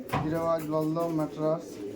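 Giribaz pigeons in a large pigeon house in Murshidabad give three low, drawn-out coos close by, one after another in quick succession.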